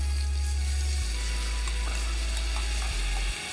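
Minced garlic sizzles in hot butter in a pan, a loud and steady frying hiss heard close up with a low hum beneath and a few faint clicks, no voices.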